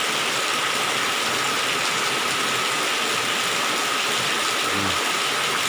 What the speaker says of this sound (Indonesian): Makin kencang, makin deras hujannya.